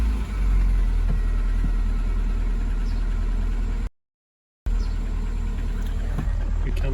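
An MG TF car engine idles close by in a steady, low rumble, cutting out briefly for a gap of silence before returning at the same even level.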